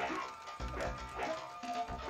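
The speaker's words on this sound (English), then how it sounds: "Oh, he has a dog!" A dog in a video game barks several times, with short yips and woofs spread across a couple of seconds at moderate volume over faint background game sound.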